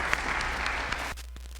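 Audience applause at a university philosophy lecture: a short burst of clapping from a seated crowd that cuts off abruptly after about a second, leaving only faint scattered claps.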